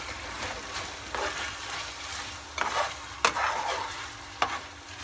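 Dried chili and minced meat stirred in a frying pan, a soft continuous sizzle broken by several scraping spatula strokes, a few sharper and louder than the rest.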